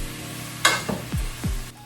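Chopped vegetables dropped into a pot over browned chicken on medium-low heat: a sharp sizzling burst, then a couple of soft thuds and stirring scrapes, close and moderately loud with no talk.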